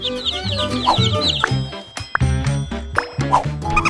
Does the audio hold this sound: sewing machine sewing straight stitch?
no